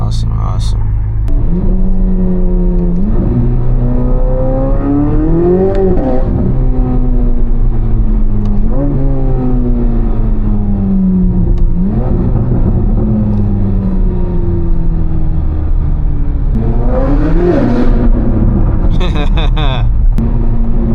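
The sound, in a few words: Chevrolet Corvette C8 Z06 engine accelerating while driving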